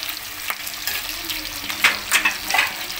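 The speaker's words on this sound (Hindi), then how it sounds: "शिमला मिर्च और प्याज को फ्राई होते हुए 5 मिनट हो गए हैं" Capsicum and onion fry in oil in a pan for a paneer shimla mirch dish, giving a steady close sizzle with stirring scrapes and a few louder crackling bursts toward the end, with no talk.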